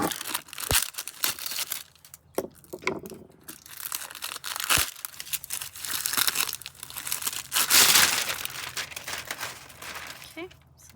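Plastic wrap crinkles and tears as it is peeled off a tropical plant pot during repotting, a loud continuous rustling with sharp rips, close to the mic.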